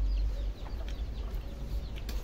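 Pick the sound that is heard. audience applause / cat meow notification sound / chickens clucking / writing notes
chickens clucking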